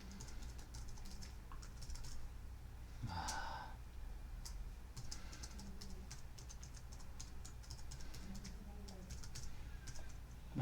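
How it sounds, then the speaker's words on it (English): Someone types a password on a computer keyboard, with quick bursts of close, light key clicks and brief pauses in a quiet room. "My typing is not very good today."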